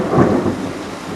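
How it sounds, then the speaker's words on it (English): Thunder rumbles through a lightning storm, a loud low roll that swells early and then holds as a steady, noisy rumble with rain-like hiss, heard alone without any talk. "Ooh, lightning."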